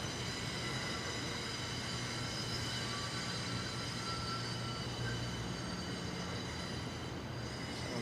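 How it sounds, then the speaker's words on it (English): A train rolls past just outside Arthur Ashe Stadium during a US Open tennis match, a steady rumble and rattle of wheels with faint squeals that holds through the whole stretch. "Sounds like one of the trains going by just outside Arthur Ashe Stadium here."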